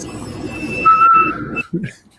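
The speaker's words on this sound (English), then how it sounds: "I hear it definitely whistling" A laser cutter's air line gives off a thin, high-pitched whistle that rises and wavers for about a second amid background noise, then cuts off.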